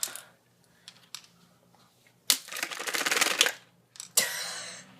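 A box fan with a pencil jammed in its blades rattles and clatters: a few scattered clicks, then loud buzzing bursts of rapid ticking that cut out and start again, close and harsh.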